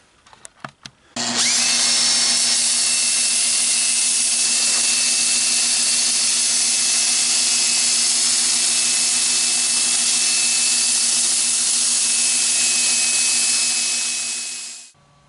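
A wood lathe spins up and runs steadily while a redbud bowl is sanded, producing a loud continuous high whine with a constant hum that winds down at the end, following a few brief handling knocks at the start.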